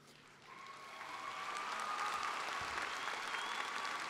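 A commencement audience at a university arts and sciences graduation breaks into sustained applause that swells from quieter clapping to a full, even roar and holds, with no voices over it.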